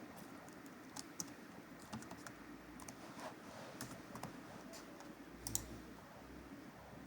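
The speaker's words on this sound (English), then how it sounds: "then I will type first list" Quiet, close typing on a computer keyboard, scattered key clicks and a few sharper taps over faint room hiss, with no voices.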